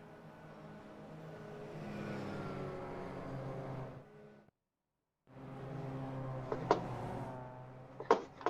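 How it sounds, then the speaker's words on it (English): A Mazda race car at a club race day, its engine droning loudly and steadily, then cutting out briefly before returning with sharp pops and spikes over the continuous roar. "the sounds of the Mazda do remind me of those Toyotas. How loud they are"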